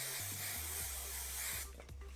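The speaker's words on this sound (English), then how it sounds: "just slightly spray it like this" Several short bursts of hairspray from an aerosol can hiss onto soft, curled hair, a close, steady spray that cuts off near the end.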